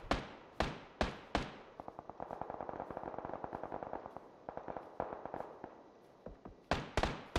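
Sharp gunshots crack out in a shooter squad tournament match, a few loud single shots at the start, then a long rapid burst of automatic fire, then more isolated close shots near the end.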